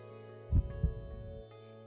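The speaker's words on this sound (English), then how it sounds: "that heartbeat sound is the exact same one from Katawa" Heartbeat sound effect in the visual novel Grisaia: a soft double thump, low and muffled, heard once over a steady background music drone.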